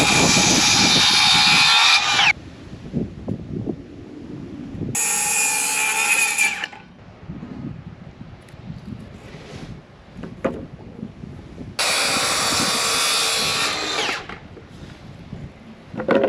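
Power saw cutting planks from a 2x4 board for a small plywood kicker ramp, three loud bursts of cutting, each a couple of seconds long, separated by quieter handling and shop noise.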